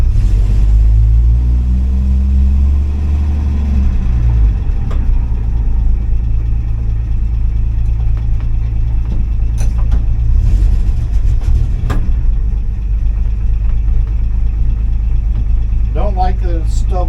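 Car engine revving and stumbling while shifting gears on a faulty shifter, a loud low rumble with uneven stuttering surges as the car tries to pull away, and a voice briefly talking near the end.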